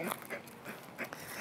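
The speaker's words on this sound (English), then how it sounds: "Dog came up as I'm recording this podcast." A dog panting and whimpering close to the microphone during a podcast recording, with repeated breathy puffs and small whines in a steady rhythm and no talk over it.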